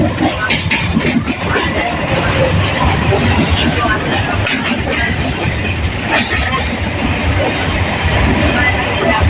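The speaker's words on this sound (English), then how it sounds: "You can see there is a train coming, and I will catch this train." A train rumbles steadily into a station, its heavy rolling noise and rattling filling the air while a crowd murmurs nearby.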